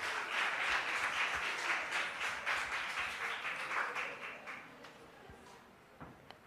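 Audience applause, a dense crowd clapping loudly at first, then gradually thinning and fading toward the end.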